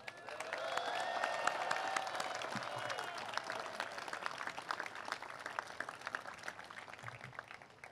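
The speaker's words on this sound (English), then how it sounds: "A round of applause, please" A crowd at a statue unveiling ceremony applauds a sculptor, sustained dense clapping with some cheering and whistles early on, fairly distant and even throughout.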